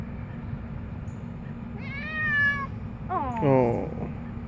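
Cat wearing a harness outdoors on grass, letting out two plaintive meows, the second louder and more strained, over a steady low background hum.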